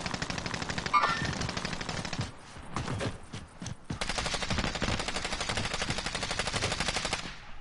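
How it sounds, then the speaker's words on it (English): Sustained machine gun fire in a video game, loud and continuous rapid bursts with a short break in the middle before the shooting resumes, no talking. "Honestly, I'm just shooting in the direction."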